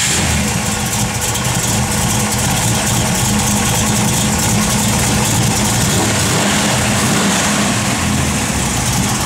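A 1971 Plymouth Cuda with aluminum heads fires up and settles into a loud, rumbling idle, its heavy engine note steady and close with slight revving swells.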